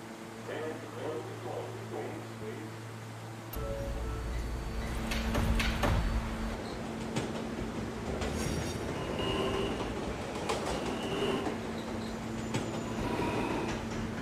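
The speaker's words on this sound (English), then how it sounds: "This is a Potatoburg bound and local train via the 5th Avenue line" Local subway train running on the 5th Avenue line, with low rumbling that swells as it gets moving, wheel noise, squeals and a door sound, and an onboard announcement voice speaking over it.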